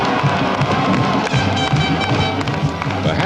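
A big homecoming crowd cheers steadily at a 1986 Penn Quakers football game against Yale, with a constant dense roar of voices and clapping that fills the whole stretch.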